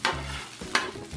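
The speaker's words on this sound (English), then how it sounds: "Frying up our rice a little bit more. Get it spread out a little bit, get it frying." Rice, eggs and lap cheong sausage frying together in a pan, with a couple of sharp scraping stirs over a steady sizzle, close and moderately loud.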